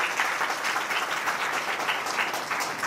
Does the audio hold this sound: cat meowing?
no